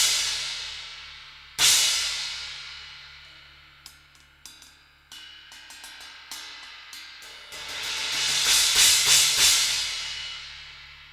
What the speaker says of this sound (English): It has that sort of trashy, explosive edge of a China, but it's shaped like a crash